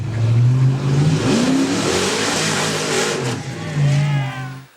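Off-road race cars at King of the Hammers rev and accelerate loudly past one after another, engines whining and rising in pitch, with a voice talking over the roar.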